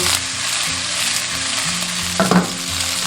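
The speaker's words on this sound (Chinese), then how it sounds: "油热过后下入鱼骨、鱼头片。" Fish bones and slices of fish head crackle and sizzle in hot cooking oil in a wok, a steady loud frying hiss throughout with a brief burst of sharper spatter near the end.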